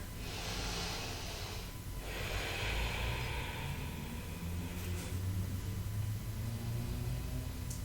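Slow, deep breaths are drawn and released through the nose during a power yoga pose, soft and close, with airy inhales and exhales over a faint steady room hiss.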